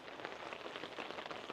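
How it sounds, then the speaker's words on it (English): Steady rain pattering on the fabric of a Cabela's ice fishing hot tent, a dense soft hiss of drops heard from inside, continuous and fairly quiet with no talking. "it seems to have been raining for the last 30 minutes"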